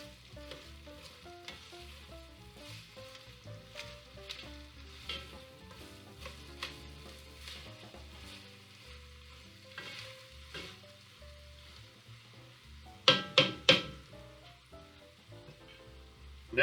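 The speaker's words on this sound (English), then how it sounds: "We're going to give it a good stir." Onions for a vegetarian French onion soup sizzle and fry steadily in a pot while being stirred, with a few brief clanks of the utensil against the pan near the end.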